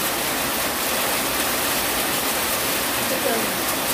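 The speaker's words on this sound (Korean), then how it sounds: "비가 많이 오네." Heavy rain pours down in a dense, unbroken hiss that stays loud and steady throughout, with no distinct drops or pauses.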